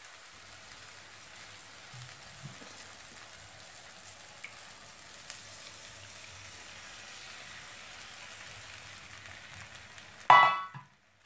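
Eggs sizzle in a pan for egg bhurji, a soft continuous crackle close by, ending in a sudden louder hiss as more liquid hits the hot pan.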